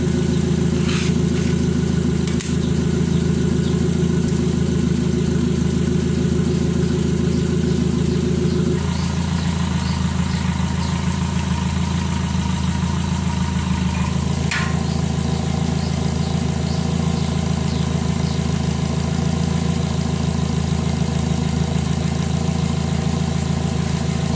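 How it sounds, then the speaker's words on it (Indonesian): A petrol car engine idles steadily through a custom-made Serigala HKS exhaust, with a deep, throaty rumble that shifts tone partway through, running continuously and close. "saya pasang knalpot serigala kecil yang buatan saya"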